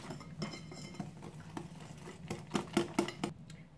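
A spoon or whisk works through batter in a bowl for an apple and coconut cake, making quiet irregular clinks and scrapes that grow into a brisker burst of taps near the end.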